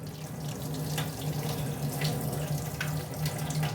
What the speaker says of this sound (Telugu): ఇప్పుడు మనం కూల్ వాటర్ వేయాలండి